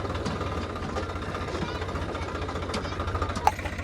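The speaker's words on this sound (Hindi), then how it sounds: "ये ट्रैक्टर लेबर्स को लेके जा रहा है शॉपिंग करवाने के लिए।" A tractor engine carrying labourers chugs steadily nearby with a low rhythmic knock, broken by one brief sharp click near the end.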